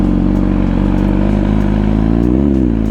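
A 2023 MV Agusta Brutale motorcycle engine runs loud and close, a steady throbbing drone with a brief rise in revs near the end, heard alone without talk.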